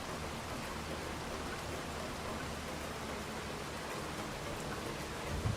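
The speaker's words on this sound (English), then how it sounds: "It just started raining" Steady rain falls in Farming Simulator 25, a dense even hiss holding at one level from start to finish with no other sounds.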